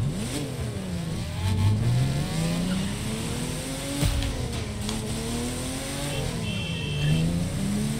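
Porsche 911 engine in a racing video game revving hard and repeatedly, its pitch rising and falling through gear changes, loud and up close, with light tyre noise and no voices.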